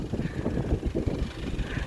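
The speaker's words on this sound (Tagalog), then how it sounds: "Grabing hangin." Strong wind buffets the microphone on a mountain road in Aurora Province, a continuous low rumble and roar, close and steady with no talking.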